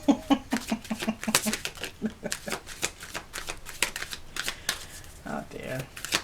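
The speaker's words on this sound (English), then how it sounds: "I'm using these slippy cards again." Slippery tarot cards shuffle in quick, papery riffles and flicks, a steady patter of card edges close to the microphone with a voice talking over parts of it.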